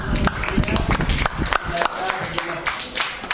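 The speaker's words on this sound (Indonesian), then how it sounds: "Berikan tepuk tangan Najwa yang" Scattered clapping from a classroom of students, uneven and brief, with voices talking over and around it.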